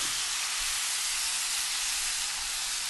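A loud, continuous hiss of a steak sizzling in fat in a pan, steady and close throughout with no breaks or voices.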